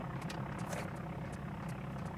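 Steady low engine drone from a running engine in a Tomb Raider custom level, a continuous loud rumble with faint higher rattles on top, no voices.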